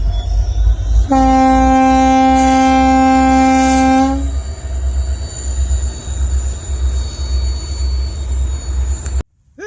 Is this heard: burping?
no